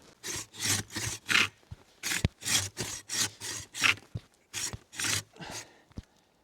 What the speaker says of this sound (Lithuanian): Turistinis pjūkliukas.